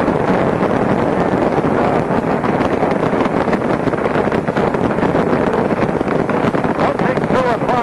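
A broad, continuous rumbling roar of Space Shuttle Columbia's rocket engines at launch fills the whole clip, loud and unbroken, with buffeting wind-like noise and no distinct pauses.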